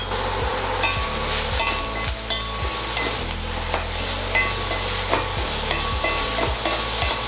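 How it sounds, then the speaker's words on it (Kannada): Paneer cubes and capsicum for chilli paneer frying in a hot pan, with a steady close sizzle and repeated scraping stirs running throughout. "ಚೆನ್ನಾಗಿ ಫ್ರೈ ಆಗಿದೆ ಪನ್ನೀರ್"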